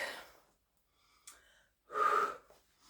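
Deep breathing at the end of an ab exercise set, with a soft exhale fading out, a brief quiet pause, then a strong, loud breath around the two-second mark, heard close and alone.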